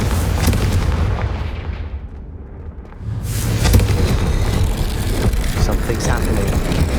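A fiery blast spell erupts in Hogwarts Legacy, a loud whooshing, booming burst after a brief lull, followed by sustained crackling rumble and impacts, with a voice speaking over the action.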